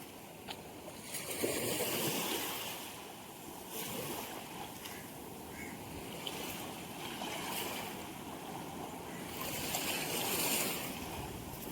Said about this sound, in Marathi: हा काय लाट येते बघा